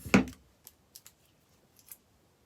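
Scissors snip through artificial Christmas wreath picks for a holiday wreath, one loud close cut followed by three or four quieter, sparse clips with silence between.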